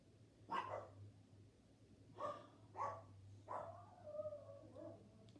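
Dogs bark at people walking by outside a front window in a house near forest, giving several separate barks and yips over a steady low hum, moderately close but not loud.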